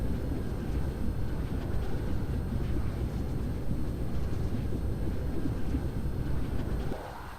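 Mecha in flight mode in the Dyson Sphere Program game makes a loud, steady rushing engine roar that holds at the same level, then drops slightly near the end.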